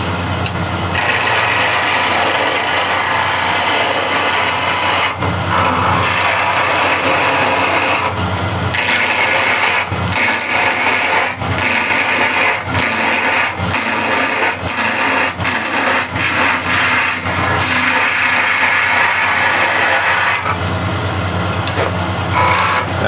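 Wood turning on a lathe with a skew gouge rounding over the workpiece: a continuous close scraping, rasping cut that pauses briefly several times, with rapid short breaks and clicks in the middle stretch before steady cutting resumes.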